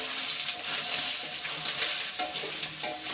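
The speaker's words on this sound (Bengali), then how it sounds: "এবার ওই আলু ভাজার তেলেই সোয়াবিনটাও ভেজে নেব" Soybean chunks fry in oil left over from frying potatoes, making a soft, steady sizzle with light crackles, fairly quiet and close, with no talking.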